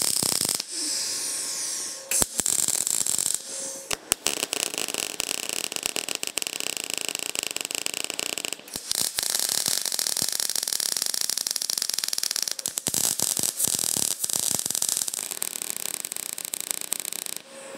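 Welding a part for a Van Diemen RF85 race car, with a steady close-up crackling hiss that runs in long stretches and stops briefly a few times.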